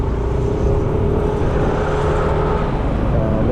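Road traffic heard from inside a moving vehicle in the Philippines, a loud, close, steady engine and tyre rumble with a faint whirring tone, continuous and without speech.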